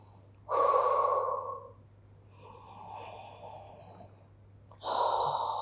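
A person breathes heavily during post-running cool-down stretching: a loud exhale, a softer breath, then another strong exhale, close and unaccompanied over a faint low hum.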